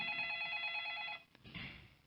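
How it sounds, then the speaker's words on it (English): A customer's telephone ringing in a call-centre telephony setup, a steady electronic ring tone lasting just over a second, then cutting off into quiet line noise. "And now the customer's phone is ringing."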